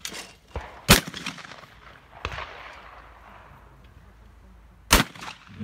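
Shotgun blasts at an English Sporting clay shooting competition: two loud, sharp reports and a fainter third crack, each trailing off with a brief outdoor echo.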